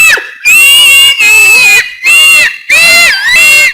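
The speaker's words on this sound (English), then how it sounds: "that's why she was shouting." A woman screams repeatedly after pepper water is poured on her, four long, shrill, loud bursts separated by short breaths, close and harsh.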